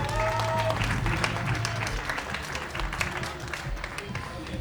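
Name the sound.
audience applause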